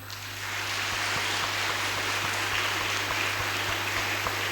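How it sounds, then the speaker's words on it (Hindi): Congregation clapping loudly during a Hindi sermon in a church, a sustained, even wall of applause with a steady low electrical hum running underneath. "एक बार जोरदार ताली बजाओ"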